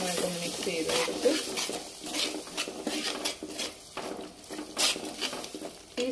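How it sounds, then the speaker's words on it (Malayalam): Kerala-style prawn roast is stirred in a pan after hot water goes in, with continuous wet scraping and soft metal knocks over a light sizzle, close up and without clear talk. "ഞാനൊരു ഇച്ചിരി ചൂടുവെള്ളം കൂടെ ഒഴിച്ചു കൊടുക്കണം ഇതിനകത്ത്. എന്നിട്ടിത് നന്നായിട്ട് മിക്സ് ചെയ്ത് കൊടുത്ത്"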